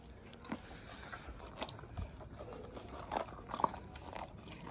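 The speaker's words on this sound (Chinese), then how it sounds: "咱家花花吃饭也挺解压啊，" A young dog crunching and chewing chicken, fairly faint, with irregular bites and crunches scattered across a quiet outdoor background.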